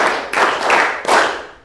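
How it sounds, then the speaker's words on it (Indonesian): A classroom group claps hands in rhythm, with three broad, loud bursts of many hands striking together, each fading before the next, no voices over them. "Kita mulai tepuk berirama."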